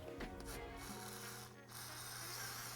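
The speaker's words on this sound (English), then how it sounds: "And last, I'm just going to clean this cap off." A soft, steady rubbing of a cloth wiping clean the cap of a WP Supertrax motorcycle shock absorber during a rebuild, close and quiet, with a brief lull midway.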